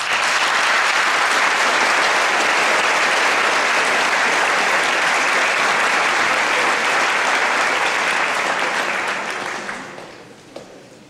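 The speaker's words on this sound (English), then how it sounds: "Please join me in a warm round of applause for all of our candidates" Audience at a municipal mayoral candidates forum applauds steadily and loudly for the candidates, a dense wash of clapping that holds for about nine seconds before tapering off at the end.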